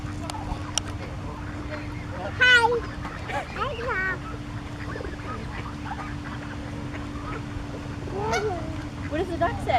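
Ducks quack and honk in short bursts over a steady hum and background noise, a few calls standing out close while people talk throughout.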